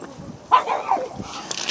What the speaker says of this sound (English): Dog's having a fit.